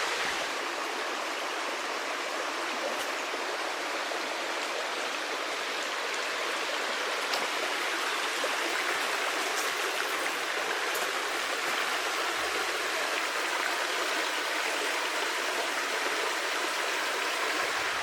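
The Babuna river near Veles, North Macedonia, running low in a dry year, gives a continuous, even rush of flowing water, close and steady throughout with no voices.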